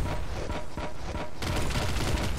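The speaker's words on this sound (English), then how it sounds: "All these explosions are giving me congestion" Rapid bursts of gunfire and booms from the video game Nuclear Throne, dense and continuous, with the barrage growing louder and fuller about halfway through.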